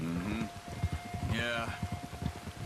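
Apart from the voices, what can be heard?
rain in the video game Red Dead Redemption 2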